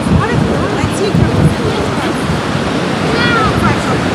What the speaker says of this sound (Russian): Ветер начинает дуть более порывисто.